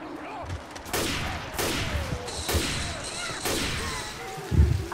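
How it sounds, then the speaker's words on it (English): Bursts of gunfire from the Left 4 Dead 2 Hard Rain campaign, with rapid volleys and loud single shots repeating across the span and a heavier thump near the end, mixed with game sounds and faint voices. "Stop shooting me!"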